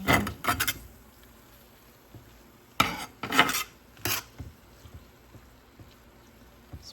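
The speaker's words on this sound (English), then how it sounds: "So I'm going to mix this around." Spoon scraping and stirring roasted salsa vegetables around a pan, with bursts of rasping, clattering strokes separated by quiet pauses, close up and moderately soft.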